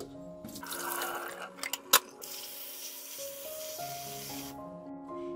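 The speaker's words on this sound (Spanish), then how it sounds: "se llena de agua y se tira el agua porque vamos a cambiar el agua" Tap water runs and splashes in a kitchen sink while cut potatoes are rinsed for homemade mashed potatoes, a steady stream with a few knocks and clinks, ending as the water stops and the pot is drained.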